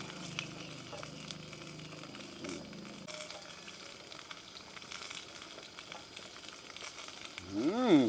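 Wild boar pork belly sizzles and fries steadily in a large pan, a continuous crackling hiss, with a brief tonal sweep near the end.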